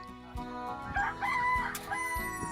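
A rooster crows a drawn-out cock-a-doodle-doo at moderate distance over a hum of background noise and some faint clucking.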